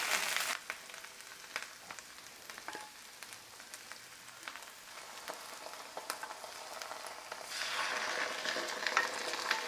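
Spaghetti and pasta sauce fry in a pan for assassin's spaghetti: a steady crackling sizzle with scattered pops and stirring scrapes, growing louder and hissier toward the end, with no talk.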